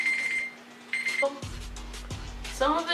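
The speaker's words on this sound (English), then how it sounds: "Oh, my timer is up." A timer alarm goes off with repeated electronic beeps, loud and close, alongside a few other household noises.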